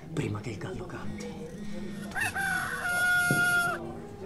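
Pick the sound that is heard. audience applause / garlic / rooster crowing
rooster crowing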